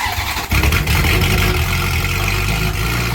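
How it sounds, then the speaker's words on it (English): Car engine with a misfire idles roughly and close by after a short start, a loud uneven rumble with wavering revs throughout. "It's still rough idle."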